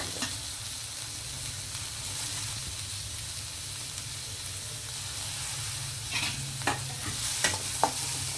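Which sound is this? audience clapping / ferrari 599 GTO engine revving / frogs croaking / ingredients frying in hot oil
ingredients frying in hot oil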